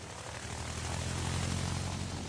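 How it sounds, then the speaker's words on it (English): Dive bomber squadron planes launching in the World of Warships video game, a steady droning propeller-engine roar that holds evenly throughout, fairly loud and continuous with no talk. "Get another dive bomber squadron in the air."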